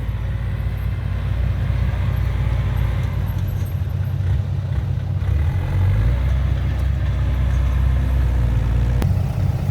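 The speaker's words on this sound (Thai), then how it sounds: "จัดรถไถเองนะครับ ดันเองวันนี้" Tractor engine pushing earth at a dirt work site, a loud, continuous low rumble and drone close by with steady mechanical texture throughout.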